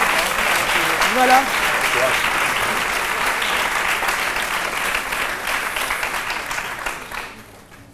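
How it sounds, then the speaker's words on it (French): A studio audience on a midday TV show applauds steadily and loudly throughout, gradually fading at the end, with a voice speaking briefly under the clapping near the start. "Je pensais que le public allait applaudir pour l'encourager."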